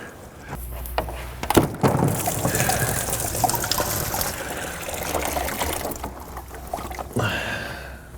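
Coolant gushes and splashes from a disconnected hose on a 1998 Chrysler Town & Country, a loud continuous liquid pour with a thunk near the start, then tapering off near the end.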